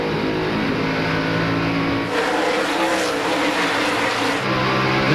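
A NASCAR stock car at Bristol in the 2001 Sharpie 500 roars from an on-board camera, a loud sustained engine drone whose pitch shifts as it accelerates, with another car's roar joining midway.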